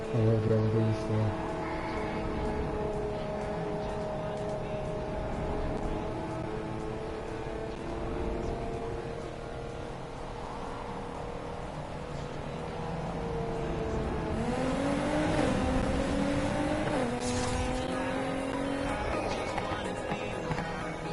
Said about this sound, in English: Driving through this tunnel is so freaking cool.